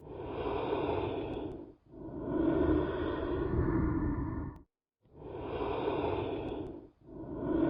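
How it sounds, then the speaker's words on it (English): Monster cat's heavy breathing from the video game FNAC 3, four slow drawn-out rasping breaths with short silent gaps between them, close and fairly loud. "The closer he is to killing you, the louder this breathing sound will get, until eventually killing you."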